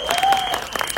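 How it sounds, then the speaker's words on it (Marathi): An audience at a song launch event gives a short, lively burst of close clapping, with a voice heard over it. "माझ्यासाठी त्या टाळ्या वाजवा गाईज प्लीज"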